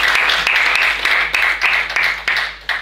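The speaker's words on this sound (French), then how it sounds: "On applaudit le Seigneur." A church congregation claps loudly and close by, bursts of applause rising and falling in waves over about three seconds, with no voices heard.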